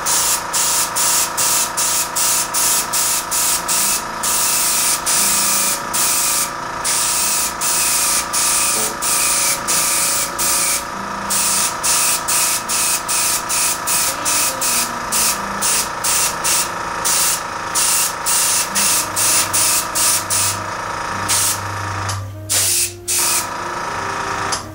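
A spray gun lays down a heavier third coat of paint on a model airplane in a long run of quick, close hissing bursts. The bursts are separated by short gaps, with no talking over them.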